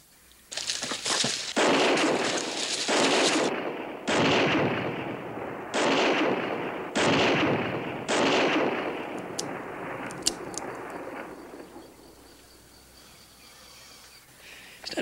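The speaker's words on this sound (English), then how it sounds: "He's firing in the air." Shots fired into the air from a gun in an old Western scene, five or six loud booming reports with long rolling echoes spaced a couple of seconds apart, fading into quiet outdoor ambience.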